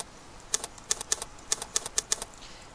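Computer keys clatter while HTML is typed, a quick irregular run of about a dozen sharp, light clicks close by with no voices.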